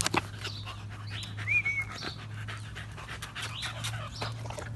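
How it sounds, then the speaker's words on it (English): Dogs pant softly and give a brief high whimper, close and quiet over a low steady hum, with no talking. "They are the most interactive and funny dogs ever."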